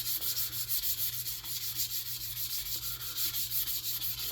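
600-grit sandpaper is rubbed lightly over the paint of an Estes Hi-Flier XL model rocket in quick, even back-and-forth strokes. The soft, hissy rasping repeats steadily and close by, and no one talks.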